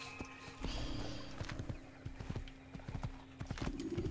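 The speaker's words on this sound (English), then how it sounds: "Oh, there's my horse." Horse hooves clip-clop in a steady walking rhythm inside the Assassin's Creed video game, close and fairly loud with a brief whinny early on and no talk over them.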